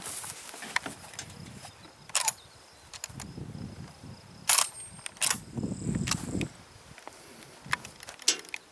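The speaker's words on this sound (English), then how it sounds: "This is with a 12 gauge Mossberg 930. We're going to shoot 3 rounds." A 12 gauge Mossberg 930 shotgun fires slugs in a few sharp, fairly faint reports spaced a second or two apart, with quiet outdoor background noise between them.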